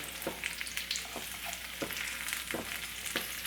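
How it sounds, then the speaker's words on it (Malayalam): Chicken frying in a pan for chicken majboos, a steady close sizzle with a few sharper crackles and stirring scrapes scattered through. "നമ്മുടെ ചിക്കനൊക്കെ ഒന്ന് ഫ്രൈ ആയിട്ട് വന്നിട്ടുണ്ട്"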